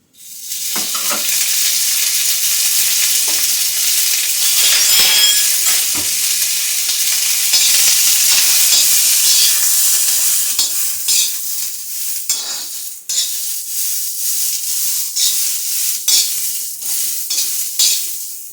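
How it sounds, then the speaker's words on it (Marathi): Steady frying sizzle of fresh pigeon peas in oil in a pan, loud and close, with intermittent scraping and stirring clatter toward the end. "तव्यामध्ये आपण दाणे घालूया थोडंसं एक दोन चमचे तेल घालायचं आणि परतून घ्यायचं"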